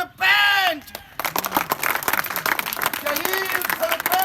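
After a brief spoken line, a crowd at a stage show breaks into applause to welcome a performer, lively, uneven clapping with scattered voices and shouts mixed in.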